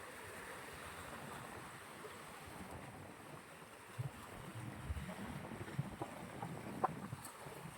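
Waves washing onto the shore of Manila Bay near a reclamation site, a steady low surf wash with wind, moderately distant, with a few faint knocks and splashes and no talk.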